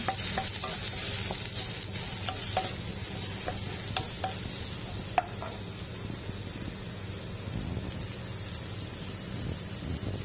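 Onion sautés in oil with a little butter, a steady close sizzle broken by frequent scraping clicks as a utensil stirs it around the pan, continuing alone without talk.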